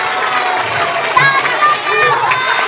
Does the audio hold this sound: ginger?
no